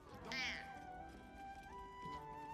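A creature in the video game Baldur's Gate 3 gives a meow-like call: a bright, rising-then-falling cry, followed by quieter wavering tonal sounds.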